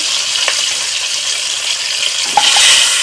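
Live rohu-type fish frying in oil make a dense, continuous sizzle, near and loud, with a couple of brief pops and a soft clatter toward the end, no voices.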